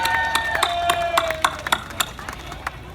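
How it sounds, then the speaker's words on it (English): A crowd claps at the opening ceremony of an outdoor mental-health charity walk, with scattered, uneven claps near the mic over a thin background murmur, tapering off toward the end. "I have to clap for that"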